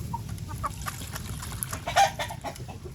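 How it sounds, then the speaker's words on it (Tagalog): A pair of gamefowl roosters, including a Blue x White Muff and Capistrano Boles line, crow and cluck close by in a farmyard, with a prominent crow near the middle amid scattered clucks and low background noise. "meron na akong dalawang tandang"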